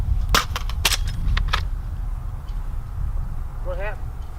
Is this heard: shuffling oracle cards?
no